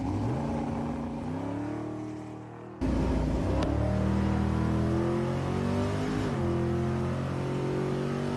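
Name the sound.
race cars revving at Tulsa Raceway Park drag racing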